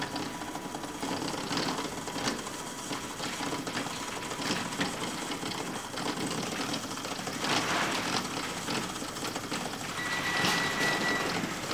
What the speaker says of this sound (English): observe the change of the rotating speed about the motor